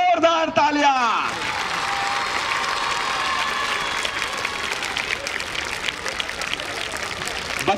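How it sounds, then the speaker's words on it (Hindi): Children at a school annual sports day clap together on the ground, a dense, steady applause that rises after a moment of a voice and carries evenly to the end, loud and close. "बच्चों ऐसी ताली बजाओ कि पूरा मैदान जोरदार तालियां।"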